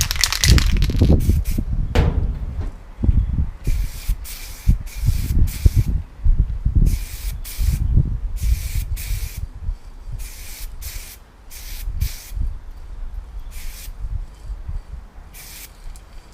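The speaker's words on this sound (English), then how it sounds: "Just a few sprays of the can will do" A can of satin black spray paint sprays Hot Wheels cars in a series of short hissing bursts, close and crisp, separated by rattles and handling knocks.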